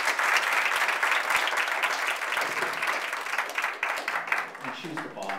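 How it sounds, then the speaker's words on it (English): An audience gives a sustained round of applause, with dense clapping from many people that gradually thins out toward the end as a voice begins speaking. "If we could give her a round of applause."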